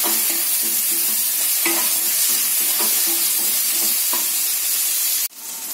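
Tomatoes are sautéed with onion and garlic in a pan under a loud, steady sizzle and hiss, while a ladle scrapes and taps in regular strokes. The sizzle dips briefly near the end and then surges back.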